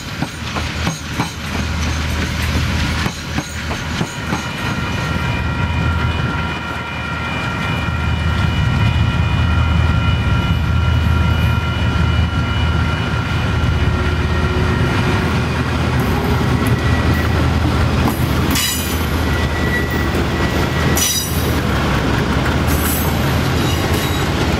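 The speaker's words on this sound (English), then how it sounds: "the train is seen departing Greymouth on the return journey towards Christchurch" The TranzAlpine passenger train rumbles steadily as it pulls away from Greymouth, with a long drawn-out horn blast early and later sharp squeals of wheels on the rails.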